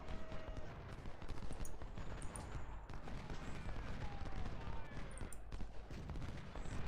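Musket volleys crackle through a Civil War battle in Ultimate General: Civil War, a dense, continuous rattle of distant massed gunfire rolling steadily with no pause, fairly quiet and unbroken throughout.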